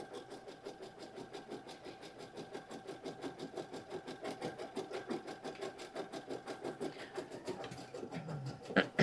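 Embroidery machine sewing a tack-down line on a Poppy build-a-bag project, a steady rapid mechanical stitching rhythm that runs continuously at moderate level with a faint hum beneath.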